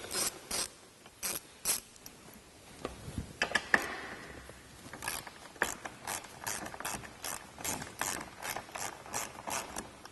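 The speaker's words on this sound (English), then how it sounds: "Now we're going to use a 10mm socket and remove the sound bar and drop it down." A ratchet wrench with a 10mm socket clicks in quick bursts of turning while removing bolts from a Jeep JK roll cage sound bar, pausing briefly between strokes, close and crisp with no voices.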